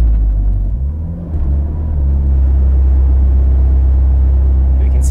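A Mitsubishi 2G Eclipse with a 16G turbo runs in gear, giving a loud, steady low engine rumble that swells slightly after a brief dip.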